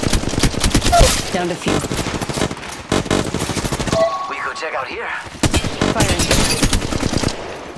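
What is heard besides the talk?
gunfire in video game Apex Legends Mobile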